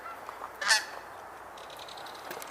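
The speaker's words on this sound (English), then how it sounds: "Make it two separate geese" Geese honking in flight overhead outdoors: one clear honk stands out, followed by fainter distant calls, over a steady outdoor background hiss.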